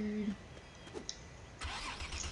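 A vehicle engine cranks and starts in the LEGO City Undercover video game, a short mechanical whir followed by a rougher rumble catching near the end, with no voices.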